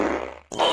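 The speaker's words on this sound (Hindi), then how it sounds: "बाप रे, कितना जहरीला पादता है।" A short, loud fart in a cartoon scene, a blurting burst that cuts out briefly and then resumes with a second buzzing, raspy burst, all within less than a second.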